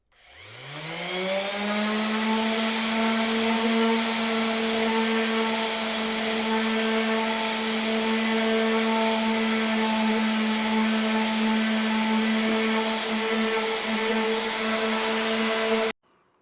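A power sander works a wooden shelf, spinning up within the first second into a steady, loud whine with a strong constant hum. It runs unbroken and alone for about fifteen seconds, then cuts off abruptly near the end.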